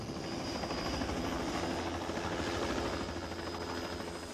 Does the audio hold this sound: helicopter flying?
yes